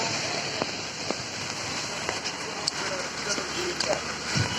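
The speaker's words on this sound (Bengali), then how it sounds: "বৃষ্টি এখনো সেই ভালো মতোই ঘুরি ঘুরি পড়তেছে ঢাকা শহরে।" Steady rain pours over Dhaka city streets during a storm, a dense continuous hiss with scattered sharper drops and splashes, close and even throughout with no voices.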